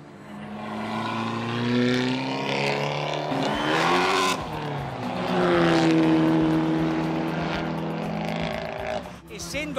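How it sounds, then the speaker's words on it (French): Racing cars pull out of the pits for the first free practice laps, engines rising and falling in loud revving passes with tonal whines, heard under continuous commentary. "Les voitures sortent des boxes pour les premiers tours d'essais libres."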